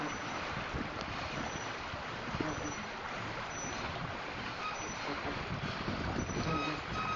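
River water in the Whiskey Bay pilot channel rushing hard past a tall piling, a dense continuous roar with wind buffeting, steady throughout with no voices.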